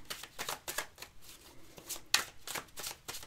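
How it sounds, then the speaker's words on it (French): Three decks of tarot-style cards shuffled by hand, giving a steady run of soft, riffling slaps and rustles in quick bursts, close and fairly quiet, with no talk. "je vais mélanger les trois jeux"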